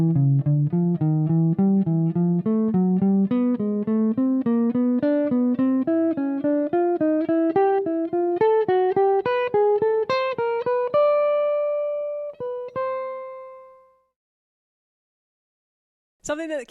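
An electric guitar plays an ascending enclosure scale exercise, single picked notes climbing steadily in even rhythm, then a few long ringing notes that fade to silence, clean and close.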